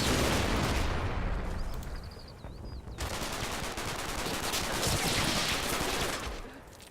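Dense machine-gun bursts and rifle fire crackle almost continuously in Combat Mission Battle for Normandy, loud and sustained, briefly easing before another heavy fusillade.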